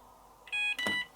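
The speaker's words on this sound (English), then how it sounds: "So it beeps," A Logik washing machine gives two short electronic beeps in quick succession, the second with a brief click, clear and close in a quiet room.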